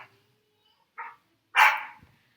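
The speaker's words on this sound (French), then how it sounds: "faites pas attention au bruit de la chienne" A female dog gives two short barks indoors, the second louder and fuller, separated by silence.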